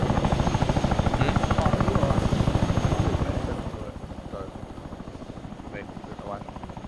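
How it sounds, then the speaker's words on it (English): A Chinook helicopter idling with engines spooled up in Arma 3, a loud rhythmic rotor thump that steadies then drops slightly in level, with voices talking over it. "I just want to leave the Chinook spooled up for the multiple people"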